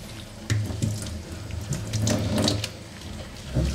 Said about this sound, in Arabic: طبعا هاي المي الفاترة